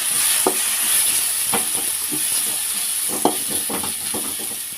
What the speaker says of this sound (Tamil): கரம் மசாலா ஒரு ஸ்பூன் இது அனைத்தையும் சேர்த்து வதக்கலாம்